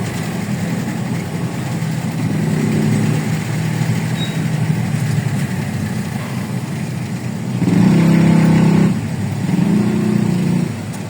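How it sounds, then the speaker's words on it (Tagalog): Road traffic on the far side of the street, a continuous engine rumble from passing cars and motorcycles that swells into a louder pass near the end, with no voices. "Traffic sa kabilang side."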